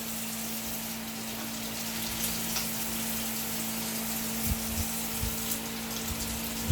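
Canning jar lids are rinsed under a running tap, a steady close hiss of flowing water with faint clinks and splashes throughout, no talk.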